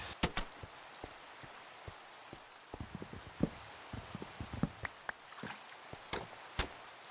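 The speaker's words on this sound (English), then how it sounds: "And it's raining." Rain falls outdoors, scattered drops tapping and pattering on a nearby surface at irregular intervals, fairly quiet overall with sharper close hits now and then.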